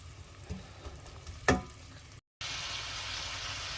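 Onions fry gently over low heat in a pan for a mutton stew, giving a soft, steady sizzle with one sharper scrape or clatter midway and a brief dropout before the hiss resumes louder.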